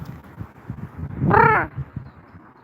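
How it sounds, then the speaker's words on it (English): A crow caws once, a loud, harsh, drawn-out call rising clearly above a low outdoor background. "That's a beautiful crow."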